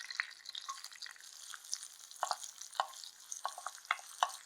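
Small shallots sauté in a pan with a little salt until lightly browned, a soft, quiet crackle of frying broken by light stirring scrapes and ticks, with no speech.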